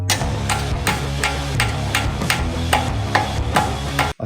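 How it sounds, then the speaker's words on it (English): Repeated metal hammer blows strike the ball joint of an Audi suspension arm during a replacement. About nine sharp, loud strikes land in a steady rhythm over a low, continuous background hum. "We all need hammer time again."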